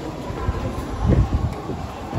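Ambient rumble of a London Underground Metropolitan line platform at King's Cross St. Pancras, a low train-like roar swelling midway through a steady hiss, with no talking.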